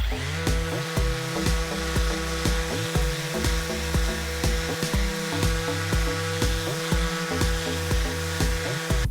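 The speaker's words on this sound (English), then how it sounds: "now I'm just gonna sand everything up to 220 before putting on a coat of oil" Power sander working wood up to 220 grit, a steady loud motor whine with rhythmic pulsing as the pad moves back and forth across the surface, continuous and close with no talk.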